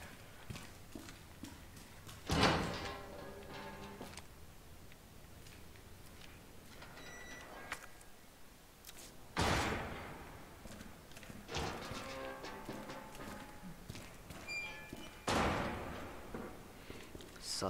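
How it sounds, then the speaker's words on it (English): Loud door in the Resident Evil 2 Remake video game swinging open and shut, heard as several sharp, heavy thuds spaced across the stretch over a quiet game background. "God, that door's loud."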